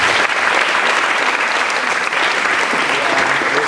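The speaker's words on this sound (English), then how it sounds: "Let's get a big round of applause." Audience applause at an Engineering Without Borders regional conference, a dense, steady wash of many hands clapping at close range that holds at full loudness throughout with no pauses and no talk over it.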